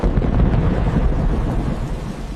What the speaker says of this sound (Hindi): अभी बारिश नहीं रुकी